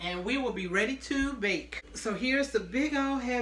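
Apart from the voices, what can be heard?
None of the usual background noises is heard.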